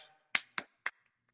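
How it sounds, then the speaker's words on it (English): Three sharp, close hand claps at a gamelan lecture, evenly spaced about a quarter second apart in an otherwise quiet room, with a faint trailing tap after. "I can either clap"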